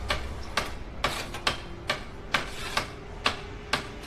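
Hammer blows drive nails into a wooden plank in the video game A Way Out, about nine sharp, evenly spaced knocks over a steady low hum, with no talk.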